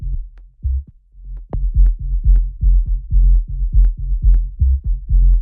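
A sub bass layer from an organic house track plays alone, a deep low pulse of short rhythmic notes in a syncopated groove with clicky attacks.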